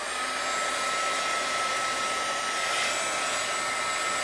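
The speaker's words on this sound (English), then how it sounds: "I'm going to use my heat gun to dry this." A heat gun blows steadily on air-dry clay held close to the surface, a loud continuous rushing hiss of hot air with no break and no talking.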